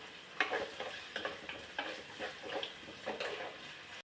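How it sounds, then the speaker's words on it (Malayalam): Onion, ginger and garlic sauté in a pan for a fish curry, a soft steady sizzle broken by regular scraping stirs of a spoon roughly every half second to second. "ഇപ്പോൾ സവോളയും വെളുത്തുള്ളി ഇഞ്ചി എല്ലാം നല്ലപോലെ വഴന്ന് വഴന്ന് വരുമ്പോൾ"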